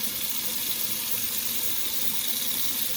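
Tap water runs steadily over blue crabs in a sink while they are rinsed, a constant close hiss and splash with no breaks and no voices.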